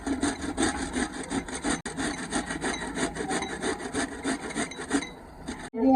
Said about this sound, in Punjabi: ਹੁਣ ਆਪਾਂ ਜਿਹੜੀ ਹਲਦੀ ਆ ਇਹਨੂੰ ਆਪਾਂ ਕੱਦੂਕਸ਼ ਕਰਾਂਗੇ